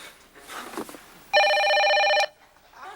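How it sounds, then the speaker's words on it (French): A telephone rings with an odd custom ringtone, a loud, steady electronic trill lasting about a second amid faint background noise. "il sonne donc bien bizarre, ce téléphone-là"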